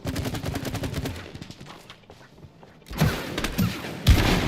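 Explosions in the video game It Takes Two: a rapid run of crackling, popping bursts fades into a quieter lull, then two heavy, booming blasts land near the end.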